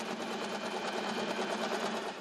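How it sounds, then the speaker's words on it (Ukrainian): Sewing machine running steadily during a school sewing class, a continuous close, even mechanical whir that holds at the same level throughout, with no talking. "Найбільш вправним учитель доручає працювати на швейній машинці."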